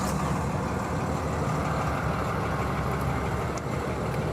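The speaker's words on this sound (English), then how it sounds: "go ahead and start the truck" A 2023 Freightliner M2 106 truck engine runs in a dense, steady diesel clatter close by, loud and continuous with no clear start or change, and no talk.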